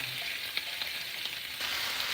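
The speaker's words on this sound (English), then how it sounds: "Let it sizzle." Radish and hot sausage sizzling in a frying pan: a steady, close hiss of frying with occasional small pops and crackles throughout, no voices over it.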